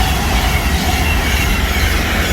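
A train runs through Tamworth station on the West Coast Main Line, a loud, close, continuous rumble of wheels and engine filling the whole stretch with no pauses.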